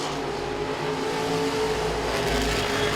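Modified race cars racing at Langley Speedway give a steady, loud roar of engines, continuous throughout with no break.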